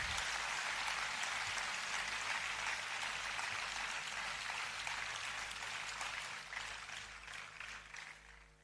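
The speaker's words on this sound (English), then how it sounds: "Ladies and gentlemen, a big round of applause for the awardees and their parents." Applause for awardees and their parents at an award ceremony, a steady broadband wash of many hands clapping that holds loud for several seconds, then gradually thins and fades toward the end.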